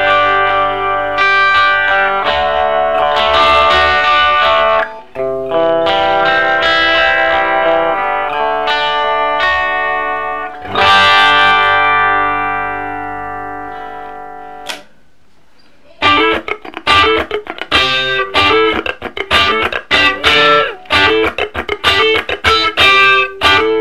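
Electric guitar played clean through a Guyatone H&M Model 30 amp, with the output lowered and the master volume full, strummed chords and ringing notes, then a choppy rhythmic passage after a brief pause, close and loud.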